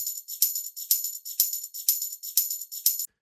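A shaker loop from a sample kit plays alone in a steady, driving melodic house rhythm, bright rattling shakes repeating about every half second before stopping abruptly.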